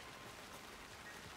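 Steady rain falling outdoors in the video game Alan Wake 2, a soft, even hiss of drops with no breaks, faint and continuous, and no talking.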